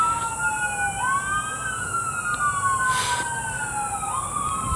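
An ambulance siren wails and warbles nearby, its tone sweeping up and down steadily over background traffic noise, with a brief burst of static partway through.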